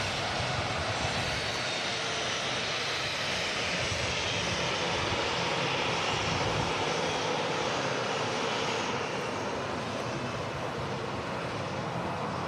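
An Air Transat A321neo rolling on runway 23R at Manchester Airport gives a continuous, loud jet engine roar with broad hissing and low rumble, holding steady throughout with no voices.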